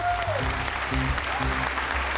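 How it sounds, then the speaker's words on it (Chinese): A studio audience at a talk show bursts into applause, a short steady wash of clapping, with a voice speaking over it. "掌声"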